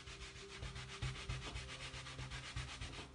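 A scrubbing pad rubbed back and forth over a rubber stamp to clean off ink, giving a steady close scratchy rubbing with repeated strokes and faint low thumps, no voices.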